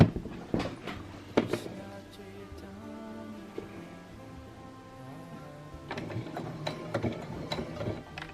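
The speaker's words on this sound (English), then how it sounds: "So basically I start about there and start sewing." Sewing machine stitching a bra side seam, with short clattering bursts at the start, a quieter steady whir in the middle, then more rapid mechanical ticking toward the end, close by.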